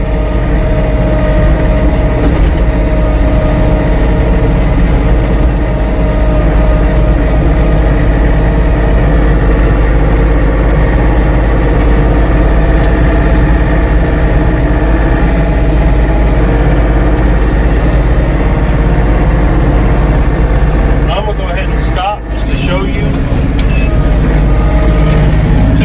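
Kioti CK3510 SE cab tractor engine running under load while tilling, a loud steady low diesel drone with constant hum and rattle, close and unbroken, with a brief dip and knock near the end.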